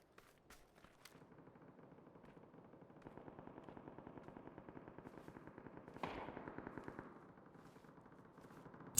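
Rapid automatic gunfire in a survival video game, long rattling bursts of shots at a moderate distance, fairly quiet, with a louder stretch near the end and a few isolated cracks at the start.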